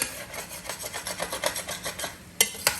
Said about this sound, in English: You do want to scrape up the deliciousness from the bottom of the pan, also known as the fond.